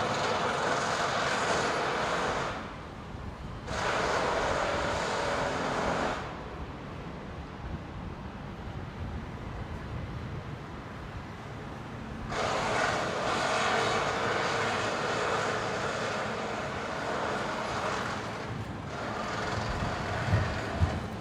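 A Qantas jet departing runway 19 right at Brisbane Airport, heard as a sustained distant roar that swells and fades in broad bands over about twenty seconds, with no talking.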